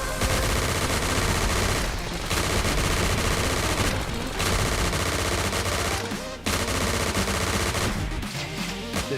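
Rapid automatic fire from an advanced machine pistol in the video game Snezhinka: Sentinel Girls 2, loud sustained bursts with brief pauses, layered over dense game music and effects.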